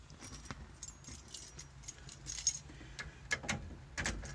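Keys for a 1974 Volkswagen T2 Double Cab jangle in short, irregular metallic bursts up close, with several bright clinks that grow busier toward the end.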